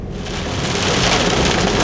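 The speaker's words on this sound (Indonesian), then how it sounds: "Pagi-pagi kok hujan deras ya." Heavy morning rain pours down loud and continuous on a car during a road trip in Java, a dense even hiss with no talk.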